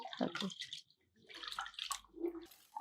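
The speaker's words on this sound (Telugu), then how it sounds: "ముందు ఇందులో బియ్యం పోసేసి కడిగేద్దు, కానీ బియ్యం పెసరపప్పు 2 కడిగేసి ఏం పర్వాలేదు." Rice and moong dal are swished and rinsed in water by hand, giving bursts of close splashing and sloshing separated by brief pauses.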